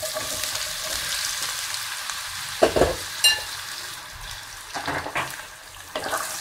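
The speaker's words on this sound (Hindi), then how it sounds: "अब इसमें केले डालेंगे" Raw banana pieces fry in a pan with steady broadband sizzle, broken by a few louder stirring scrapes and clatters; no one speaks.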